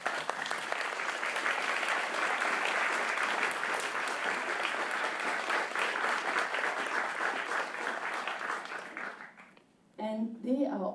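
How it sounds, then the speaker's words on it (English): An audience at a book launch gives loud, sustained applause to a local Buddhist organization, the clapping fading out briefly before a voice begins speaking. "let's give them a great round of applause"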